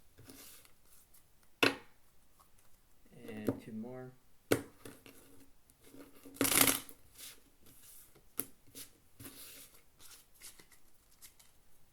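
Playing cards shuffled at an Ultimate Texas Hold'em table, a few sharp riffling bursts and snaps over a busy casino background while a person talks.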